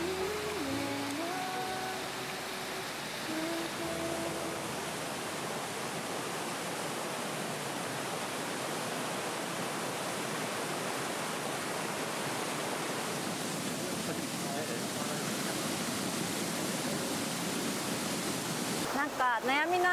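A waterfall in a quiet countryside retreat roars as a steady, dense rush of falling water, close and continuous, with a brief voice at the start.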